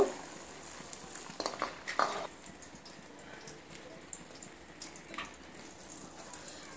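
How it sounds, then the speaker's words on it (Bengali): Beaten egg mixture poured into hot mustard oil in a frying pan for a Bengali omelet curry, giving a watery, hissing sizzle with a few louder bursts early on, steady and close without any talk. "এবার আমি এখান থেকে অল্প একটু এইভাবে ডিমের মিশ্রণটা নিয়ে ঢেলে দেব।"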